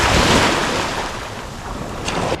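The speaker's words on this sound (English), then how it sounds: "I'm just trying to time the wave when it goes back into the water" Ocean waves wash over driftwood logs on a shoreline at blue hour, a steady broadband surf rush with wind buffeting the microphone, swelling loud early and then ebbing back.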